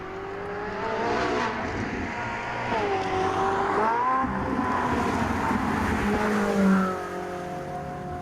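A Ferrari 458 Italia V8 pulls steadily on the road, its engine note climbing and easing through gear changes, heard from close by at a moderate, even loudness with no talking.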